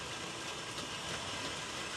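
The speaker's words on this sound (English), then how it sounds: "I've got 4 trains entering the tunnels," Several model trains run on a layout and slip into tunnels, producing a steady, close mechanical rumble and whir that holds at an even level throughout, with no talking.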